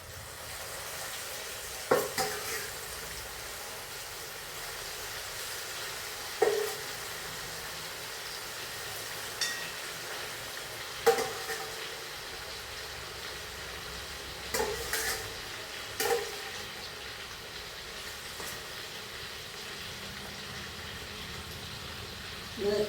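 Food sizzles steadily while being stirred and roasted in a pan, with a constant soft frying hiss broken by occasional sharp scrapes and knocks of the spoon against the pan every few seconds.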